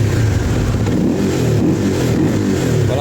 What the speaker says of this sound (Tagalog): Ito yung response ng throttle niya.